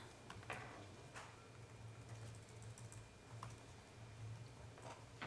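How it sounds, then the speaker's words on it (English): Quiet clatter of fingers typing on a computer keyboard in a meeting room, irregular bursts of soft key taps over a faint low hum, no speech. "I'm just typing in."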